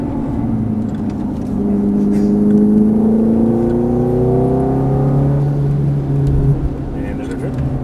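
A Ferrari F430 being driven hard on track, its engine note climbing steadily as it powers out of a turn, loud and close, with a voice talking over the rising drone.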